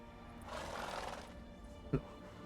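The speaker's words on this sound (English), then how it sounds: "Ought to thank my horse, actually." Brief horse whinny from the horse in The Witcher 3: Blood and Wine, rising and fading within about a second, followed by a short sharp knock, over quiet game ambience.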